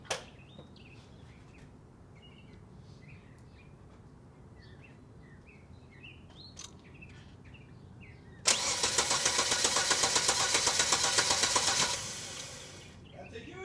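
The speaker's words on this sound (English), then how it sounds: "we're leaving the microphone right down here so you can hear the engine in all of its glory" An old car that has sat for 20 years cranks and fires up, recorded with the microphone low near the engine: quiet ambience and faint birds, then a sudden loud roar lasting several seconds before settling lower.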